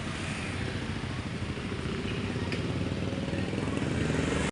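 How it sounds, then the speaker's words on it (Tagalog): A generator engine runs steadily at a birthday gathering, a continuous droning mechanical hum that stays at an even, moderate loudness throughout with a faint clattering texture. "Lahat ay generator ang ginagamit nila."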